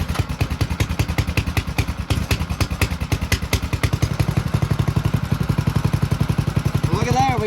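A Monster Moto 212 minibike engine fires up and settles into a steady, rapid thumping idle, loud and close, with mechanical clatter over its even chugging rhythm.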